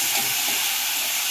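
Chopped onions dropped into hot oil already holding cardamom, cloves, peppercorns and cinnamon, giving a loud, steady broadband sizzle that holds evenly throughout with no talk.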